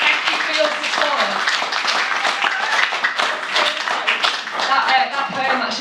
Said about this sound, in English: your applause is like therapy